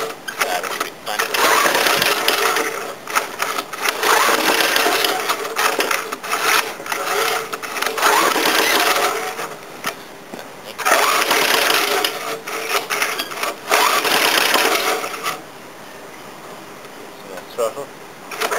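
An old lawn mower engine runs close by, a loud, continuous, rough buzzing clatter that wavers in strength and eases near the end.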